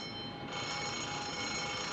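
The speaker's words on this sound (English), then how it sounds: "Sound the alarm." Ship's alarm bell sounding for action stations aboard a 1950s warship during a naval battle, a steady continuous ringing that fills the whole stretch under engine and background noise, with no talking.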